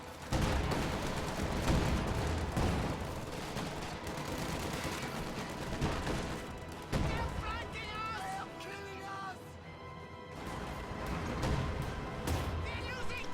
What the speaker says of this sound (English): Anti-tank gun firing on the Sherman is unable to destroy it as riflemen on the flank will decrew it.